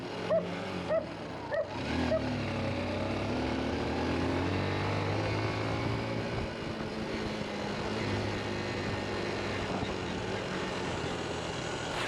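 Several dogs barking loudly in a quick burst of yelps at the start, then chasing behind a Honda XR 150 motorcycle whose engine drones steadily and rises in pitch as it rides on.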